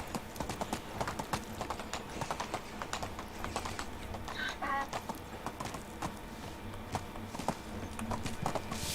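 In a medieval farming video game, a donkey's hooves clip-clop in a brisk, steady rhythm, close and continuous, with faint ambient background beneath.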